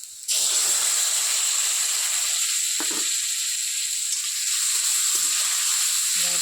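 Ground spice paste hitting hot oil in a pan sets off a loud, sudden hiss that holds as a steady sizzle, with a few faint clicks and stirring touches near the end.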